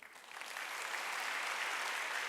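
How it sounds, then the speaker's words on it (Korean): Congregation at a Korean Wednesday church service breaking into applause, rising quickly from a few scattered claps to a full, steady wash of many hands that holds evenly to the end. "방글이 일어나 보라고 박수 좀 쳐줘요."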